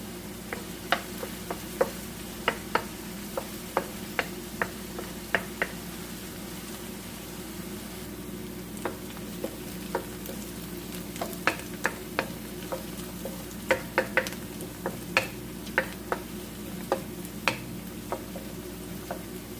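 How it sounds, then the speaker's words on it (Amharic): Onions fry in oil in a pan while being stirred for an Ethiopian spicy macaroni dish, a steady soft sizzle with sharp scraping clicks of the spoon recurring irregularly throughout. "ሽንኩርቱን በዘይት እያማሰልኩኝ እጠብሰዋለሁ"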